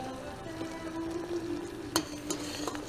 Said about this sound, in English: It boils so fast.